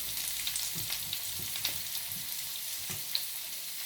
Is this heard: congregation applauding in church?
no